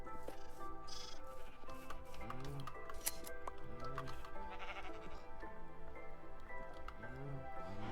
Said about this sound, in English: I've got many white sheeps and barely any black.